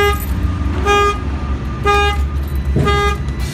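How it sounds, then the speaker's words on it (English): A Freightliner truck's alarm honks its horn in repeated, evenly spaced blasts, three loud toots with pauses between, close by over an idling engine rumble. "Anybody who opens the door, the alarm will fire off"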